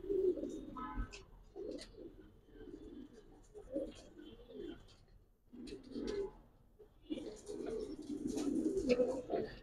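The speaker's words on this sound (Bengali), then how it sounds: "এটা ডাইরেক্ট তোতা কবুতর, সিলভার তোতা" Silver tota pigeons coo in a loft, with several birds giving low, rolling, overlapping coos up close, swelling and fading in bursts with brief gaps.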